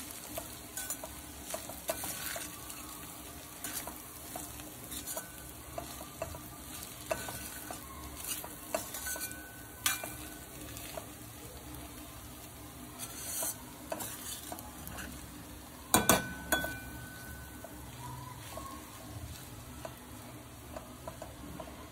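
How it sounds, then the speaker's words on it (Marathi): Fried rice with masala is stirred in a pan, giving a faint background sizzle broken by scattered scrapes and spoon knocks, with one louder clatter partway through. "परत एकदा छान मिक्स करून घ्यायचं, मसाला सगळीकडे लागला पाहिजे"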